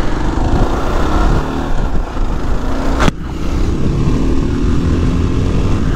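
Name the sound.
Kawasaki KLR 650 motorcycle pulling away and accelerating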